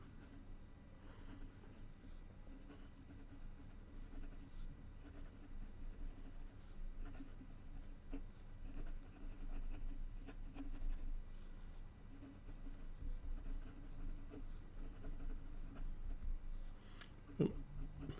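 An Esterbrook Estie fountain pen with a wet, tuned stub nib writes on paper. A faint, steady scratch and glide of strokes sits under a low background hum, with one sharp tap near the end.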